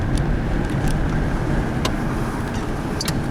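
A car drives steadily along a road, giving a constant broadband rumble of engine and tyre noise, heard from inside with a few faint ticks and no talk.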